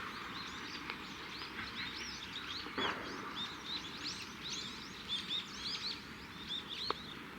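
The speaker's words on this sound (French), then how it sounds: "Oh, c'est agréable avec le chant des oiseaux." Birds chirp and sing outdoors in nature near Takayama, Japan, with short bright calls repeating across a steady background hiss, fairly distant and soft.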